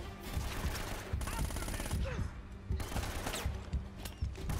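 An Uzi fires in Uncharted: Drake's Fortune in rapid automatic bursts of clattering shots that repeat through the clip over game noise and a faint voice.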